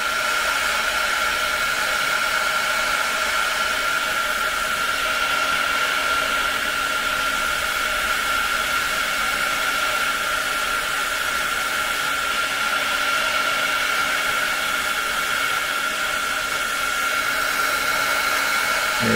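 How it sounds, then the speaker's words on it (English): A hair dryer blows continuously over a coffee painting on paper, a loud, steady whirring roar with a constant motor whine and no change in pitch or volume. "if I wasn't using this dryer, then it would take a long time."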